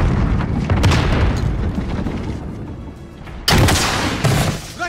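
A grenade blast in Call of Duty, with booming, rumbling gunfire-like bursts that fill the scene, followed by a second sharp, loud burst near the end.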